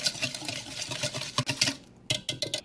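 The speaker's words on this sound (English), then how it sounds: "Now we're gonna mix this well" Brown sugar and melted butter being stirred together for ginger banana bread batter, with repeated soft scraping and clinking strokes of a utensil against a bowl, close and steady with short pauses.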